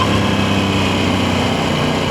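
Aprilia Tuono 660 motorcycle engine running in a steady loud drone, a dense continuous roar with no break for the whole moment.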